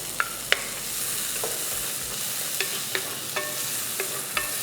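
Tomatoes and curry leaves fry in a pan for a chow chow kootu, a steady sizzle broken by several sharp scrapes and knocks of stirring, close and alone without talk.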